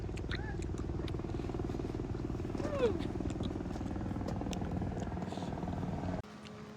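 A helicopter flies overhead at the beach town of Varkala, a steady, moderately loud engine drone with rhythmic rotor thrum running continuously beneath people talking nearby.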